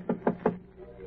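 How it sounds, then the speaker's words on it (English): Three crisp knocks on a door in an old radio drama, evenly spaced and close, followed by a quiet hum. "Then he knocks."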